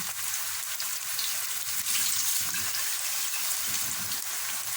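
A tomato and pepper mixture sizzles as it is sautéed in a pan, giving a continuous, even frying hiss up close with no talking.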